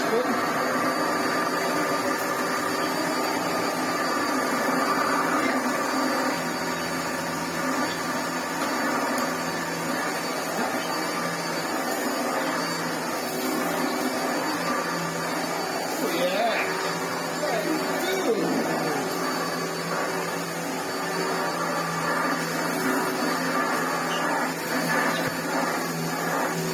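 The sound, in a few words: Hitachi vacuum cleaner running with brush roll spinning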